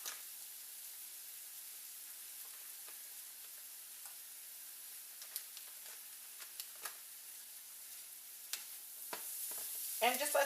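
Curry powder cooking with garlic and onion in a pan for curry shrimp: a steady soft sizzle with faint stirring scrapes and occasional clicks, louder utensil noise near the end.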